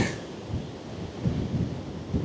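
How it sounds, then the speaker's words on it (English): Strong wind gusts rumble against the microphone in uneven, swelling bursts beside a motorhome parked under trees in Northumberland, loud and close, with no voices. "It's a lovely sunny day, but it is so windy."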